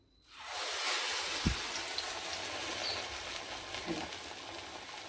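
Oil hisses and crackles in a steady, broadband sizzle that starts abruptly and continues evenly, with a soft thump early on.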